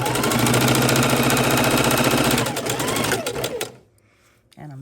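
A sewing machine back stitches quilt fabric strips in a loud steady mechanical whir that runs fast, then slows and stops, followed by a short final burst.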